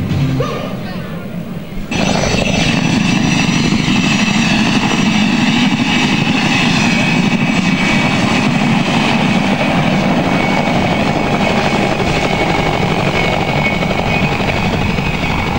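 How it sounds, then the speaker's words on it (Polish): A helicopter giving rides at a 1999 village harvest festival in Kopanica, Poland, roars loudly and steadily as it powers up and stays close. The engine and rotor noise fills the whole stretch, and faint speech may sit under it. "Najlepsze są wtedy, kiedy e, helikopter wchodzi w zakręt."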